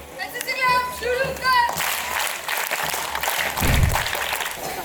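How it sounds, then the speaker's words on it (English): A school audience at a Toastmasters club session at Veritas Sainik School, Tirupati, breaks into a dense round of applause welcoming a cadet speaker, rising after a brief voice and continuing steadily to the end. "Let us welcome him with a big round of applause"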